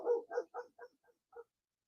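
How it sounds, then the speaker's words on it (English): A German Shepherd in another room lets out a quick series of five or six muffled, distant barks, fading toward the end, with no voices. "I don't know if you guys can hear him barking in the other room or not."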